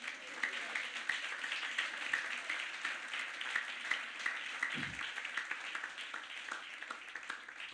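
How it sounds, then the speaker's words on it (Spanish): A church congregation claps for the Lord during a Spanish-language sermon: fairly faint, steady clapping spread across the room with a few sharper individual claps, holding for several seconds, with faint voices mixed in. "¿Cuánto le dan un aplauso al Señor?"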